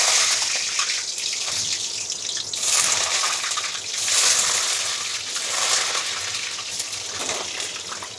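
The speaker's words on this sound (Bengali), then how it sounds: "তো প্রথমে আমি আলুগুলোকে ভেজে নেব।" Potatoes frying in hot oil, a continuous loud sizzle and hiss that swells and eases slightly throughout, with no voices.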